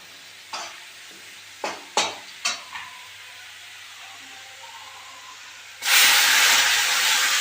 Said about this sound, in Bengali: পেঁয়াজগুলো লাল হয়ে গেছে, এখন আমি বাটা মশলাটা দিয়ে দেবো।